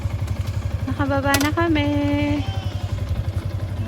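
Motorcycle pulling in to park at a farm resort near Metro Manila: a close, steady engine putter runs throughout while a person speaks briefly over it.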